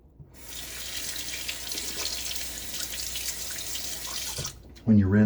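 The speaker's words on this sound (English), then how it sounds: "When you rinse your razor, if you have gently falling water, it should clear away all the soap that's in the razor without a problem." A safety razor is rinsed under a running tap, water streaming steadily into the sink for several seconds before cutting off, followed by a brief voice.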